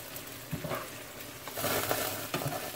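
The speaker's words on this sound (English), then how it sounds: "Gonna add some ketchup. Gonna stir it up." Canned mackerel with ketchup stirred in a frying pan, Jamaican style: soft, close scraping strokes over a gentle sizzle, with a few brief louder scrapes.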